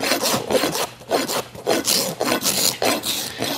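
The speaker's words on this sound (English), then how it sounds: "Watch what happens as I take a few rasp strokes to the heel." Hoof rasp filing the heel of a horse's hoof during a barefoot trim, six or seven loud, close, coarse scraping strokes in a steady rhythm, each separated by a brief pause.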